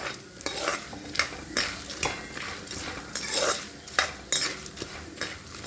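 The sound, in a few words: roasting peanuts and roasted gram in oil with turmeric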